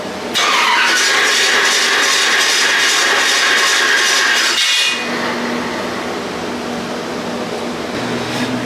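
A 406 small block Chevrolet engine with about 10.5 to 1 compression runs loudly for several seconds, then drops sharply to a quieter steady idle hum.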